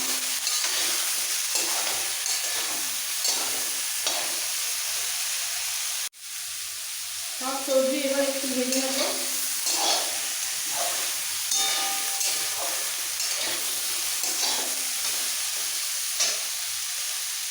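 Pumpkin, eggplant and potato frying in a pan produce a steady hiss and sizzle, with a brief dip partway through and then occasional clinks and stirring scrapes over the continuous frying noise.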